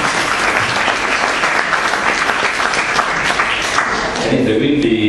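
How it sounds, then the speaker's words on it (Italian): Audience applause at an Italian book presentation, loud sustained clapping from a close crowd that thins out near the end as a voice begins to speak. "fateci un applauso a Silvio."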